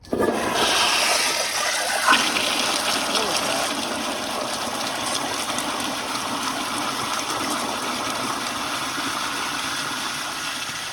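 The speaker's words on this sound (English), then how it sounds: "I'm gonna give it one last flush." A 2015 Kohler Highcrest toilet flushes loudly up close, a sudden rushing gush that settles into a long steady roar of draining and refilling water, with a voice briefly present.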